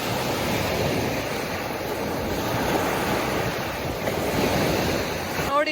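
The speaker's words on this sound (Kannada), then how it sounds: "ವೇವ್ ಸ್ವಲ್ಪ ರಫ್ ಇದ್ದಂಗಿದೆ." Rough ocean surf on a Canadian beach, a constant loud roar of breaking waves with gusty wind buffeting the microphone, and no voices.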